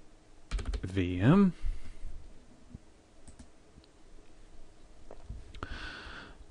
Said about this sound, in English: You just have to type in your new text.